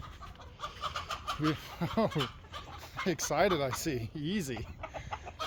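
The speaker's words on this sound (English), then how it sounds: "here's the chickens" Chickens in a farm chicken yard cluck and squawk close by in quick, rising and falling bursts, with someone talking softly over them.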